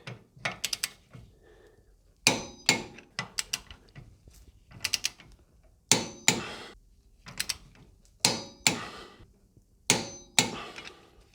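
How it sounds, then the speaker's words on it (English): Swivel hub nuts on a Toyota Landcruiser are torqued to 71 foot-pounds with a hand wrench: bursts of sharp metallic ratchet clicks and clanks come in irregular groups, fairly close, with quiet gaps between them and no voices. "we're ready to torque those nuts up"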